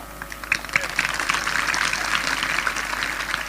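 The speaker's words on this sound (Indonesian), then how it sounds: "Kenapa kamu tepuk tangan?" A church congregation applauds during a sermon, a broad wash of many hands clapping that is steady and moderately loud from start to end, with some talk underneath.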